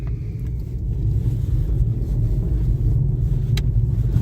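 A 1 litre car's engine drones steadily while being driven up through the gears on a test drive, a low continuous rumble with road noise and no talk.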